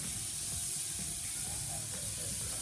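Grass-fed steaks on a Weber gas grill give a continuous bright, hissing sizzle, steady and close, with a faint low rumble beneath.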